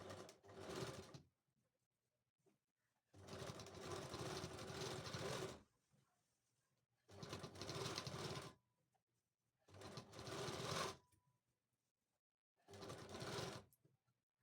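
A sewing machine stitches a blouse in five separate runs, each a steady close mechanical whir lasting one to three seconds, with quiet pauses between the runs.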